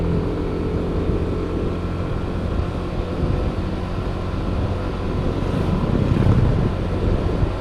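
Constant rumbling wind buffeting a GoPro Hero 5 microphone while riding a motorcycle, over a low engine drone, steady and loud the whole time.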